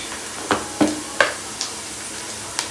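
Onions fry in a pan for Telangana-style fish curry (chepala pulusu), giving a soft, steady sizzle broken by several sharp stirring scrapes at uneven intervals, with no talking.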